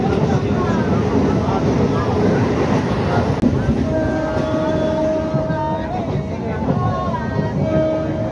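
Interior of a crowded commuter train in India, a constant rumble and rattle of the moving carriage with a murmur of passengers talking and a faint squealing tone partway through.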